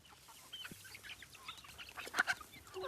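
Guinea fowl on a farm clucking and chattering in short, scattered calls while feeding, moderately near, with a louder burst of calls toward the end over a faint outdoor background.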